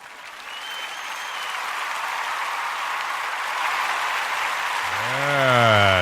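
A crowd claps and cheers steadily, a dense wash of applause that swells toward the end as a warbling electronic tone sweeps in.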